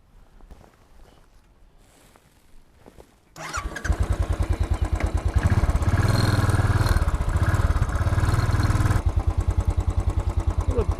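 A motorcycle engine starts after some quiet shuffling, then runs with a loud, steady pulsing throb close by, its rhythm shifting slightly partway through.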